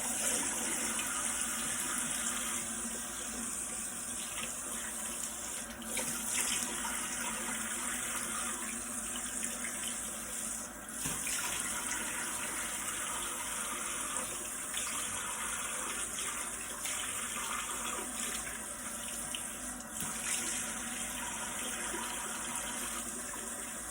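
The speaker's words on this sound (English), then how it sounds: "I'm gonna go ahead and rinse this off." Warm water running from a bathroom faucet while a face is rinsed, a steady splashing stream throughout with small shifts as hands move through it.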